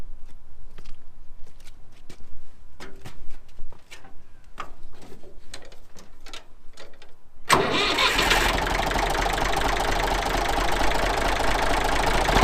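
A vintage Massey Ferguson 35 tractor, just after a spring service, gives several scattered clicks and knocks. Its engine then cranks and catches, settling into a loud, steady rumbling run close by.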